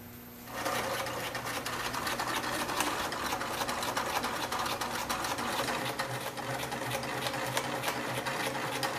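A sewing machine whirs steadily and closely, stitching hovercraft skirt material in one continuous run after a brief quiet start, with no talking.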